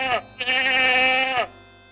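A cartoonish sheep from the Freddy Pharkas Frontier Pharmacist PC game bleats twice, loud and close, a short bleat followed by a longer drawn-out one, with nothing else around it.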